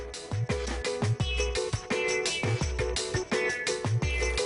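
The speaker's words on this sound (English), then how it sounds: "It's the sound of direct injectors." A steady ticking clatter from the direct fuel injectors of a running 2014 Ford Fusion engine, rhythmic and close, with a repeating mechanical pulse and no talking.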